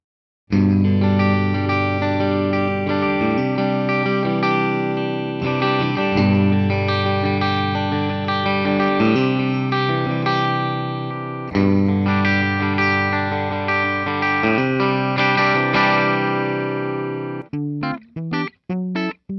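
A 2008 Gibson Les Paul Custom in ebony, a three-pickup model with chambered weight relief, played through an amp with effects: loud, continuous distorted chords and sustained notes ringing with chorus-like shimmer, ending in a few choppy stabs.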